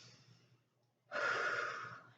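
A Pilates instructor draws one long, clearly audible inhale during a core dead bug exercise, starting abruptly after a quiet pause and held steadily for about a second before easing off.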